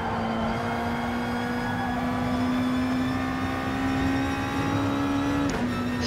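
Gr2 race cars in GT Sport hold a steady, loud engine drone as the pack crosses the line to start lap 2, one sustained engine note rising slightly in pitch and then dropping near the end.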